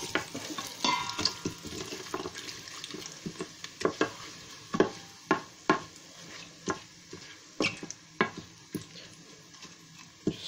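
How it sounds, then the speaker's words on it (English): Chicken sautéing in hot oil while a wooden spoon stirs and scrapes the pan, giving a steady close sizzle broken by repeated sharp knocks and scrapes in an irregular rhythm, with no talking. "Just saute in the oil to release the flavours."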